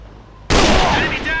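Gunfire in the video game AVA starts abruptly after a quiet moment and continues as a loud, dense burst of close shots.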